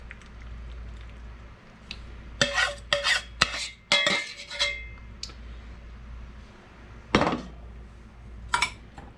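Ribs and potatoes being mixed with cheese sauce in a baking dish, heard as a run of clattering, scraping utensil strikes against the dish with short bursts and pauses, close and fairly loud, no talking.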